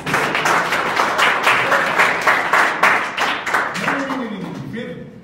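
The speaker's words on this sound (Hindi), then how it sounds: "एक ताली बजाओ" An audience claps together in rhythmic, evenly spaced beats, loud and near, before the clapping fades out and a voice begins to speak at the end.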